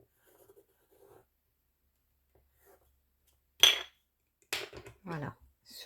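A pen draws a circle on an adhesive MOW craft foam sticker. A couple of loud, scratchy strokes follow a near-silent stretch, with a brief voice at the end.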